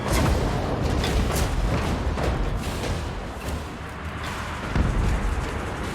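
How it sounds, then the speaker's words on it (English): Cannon fire from a fantasy battle in the strategy game Total War: Warhammer 3, with repeated heavy booms rolling over a dense, continuous din of combat. No voices are heard. "See if we can take out some of these with the cannon fire."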